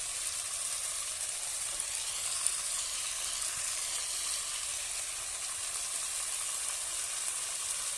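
Small darka fish hit hot oil in a village kitchen, producing a steady, even sizzle with a bright crackling hiss that holds constant throughout, with no voices.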